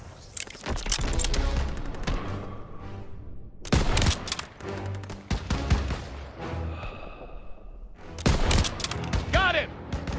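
Intense Call of Duty: WWII battle gunfire comes as loud, repeated bursts of shots and blasts with short gaps between volleys, while voices shout over the combat.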